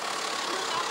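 A Peugeot 405 estate's engine idles with a steady, low rumble throughout, no voices over it.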